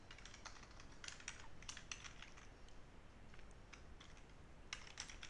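Typing on a computer keyboard, heard as faint, quick clusters of key clicks over a low background hiss.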